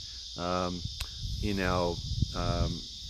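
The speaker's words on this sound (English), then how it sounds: "as you can hear in the background, all these cicadas" Cicadas drone steadily in the background on an off-grid solar property with horses nearby, a continuous high buzzing hiss under a few louder rising chirp-like calls close by.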